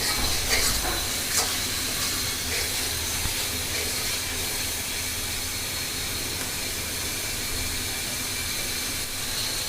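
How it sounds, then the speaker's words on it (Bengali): Chicken and mung dal sautéing with spices in a pan, a continuous hissy sizzle with soft scraping and stirring knocks, steady and close, without talk. "এভাবে কিছুক্ষণ ধরে কষাতে থাকবো আমি।"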